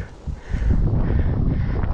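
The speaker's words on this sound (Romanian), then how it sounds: "Că bate vântul, Doamne ajută." Wind gusts into the microphone in a mountain setting, a short, rough, low rush that rises after a quiet start and holds steady.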